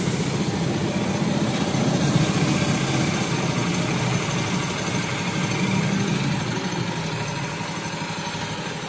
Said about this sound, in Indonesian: mesin kita kontak lalu kita hidupkan